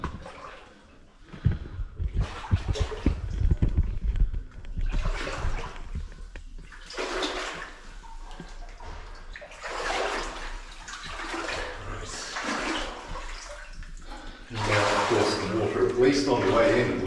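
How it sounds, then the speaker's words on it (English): Cold water sloshes and splashes as someone wades through a flooded New Zealand gold mine tunnel, in surging bursts of churning water, while someone talks over it. "Bloody cold water."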